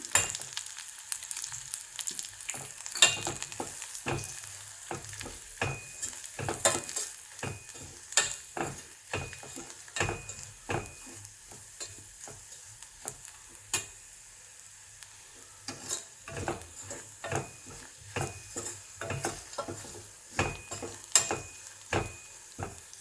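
Green chilies and gram flour fry in a pan with a soft crackling sizzle and scattered sharp pops and ticks of stirring, steady and fairly quiet throughout with no voices.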